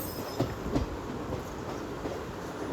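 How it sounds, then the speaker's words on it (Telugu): A shunting train passes nearby on an Indian rail line near Kazipet, a steady rolling rumble with a couple of faint wheel clacks, heard briefly without talk. "ఏదో షంటింగ్కి వెళ్ళే ట్రైన్"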